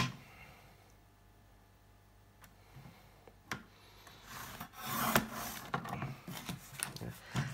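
Scrap pieces of craft board being cut for a memory box wallet, with soft rubbing and rasping scrapes that build into louder, busier cutting strokes toward the end, close and fairly quiet, no talk.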